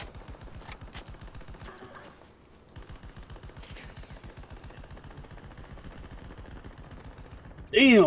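Rapid automatic gunfire in Battlefield 2042, long steady bursts of shots firing from a hover turret, with a brief pause near the middle and a louder burst at the very end.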